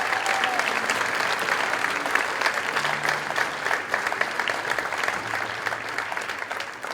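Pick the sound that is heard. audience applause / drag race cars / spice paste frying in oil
audience applause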